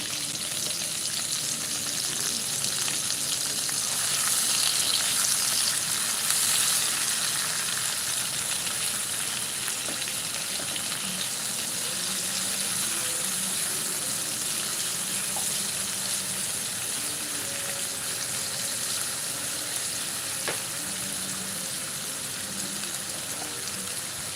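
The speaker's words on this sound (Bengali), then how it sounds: "এর মধ্যে আমি পেঁয়াজ কুচি মরিচ কুচি এবং টমেটো কুচি দিয়ে সুন্দর মতো চকিয়ে নেব" Chopped onion, green chili and tomato frying in a pan of hot oil, a continuous hissing sizzle with soft stirring scrapes and occasional light clicks, steady and fairly loud throughout.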